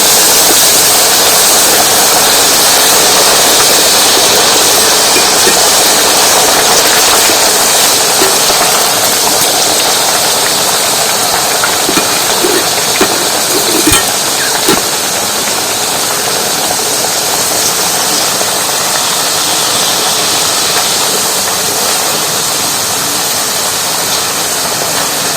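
Potato slices deep frying in hot oil for crisp homemade chips make a loud, dense, steady roaring sizzle with no pause.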